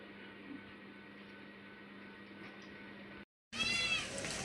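A cat meows several times over a steady low background hum; after a brief gap the meowing returns louder and closer, with clear rising harmonic cries.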